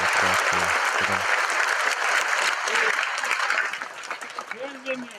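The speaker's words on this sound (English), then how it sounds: "So let's have a round of applause for them." An audience applauds after a wrestling training session at a sports school: dense, loud clapping that thins out toward the end, with voices speaking over it.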